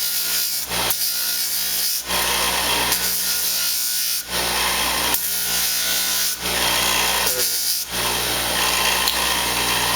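Wood-textured rasping and rubbing strokes as someone files and rounds the corners of finger gauntlet pieces, a steady loud scraping broken by short pauses about every two seconds, close and continuous with no talk.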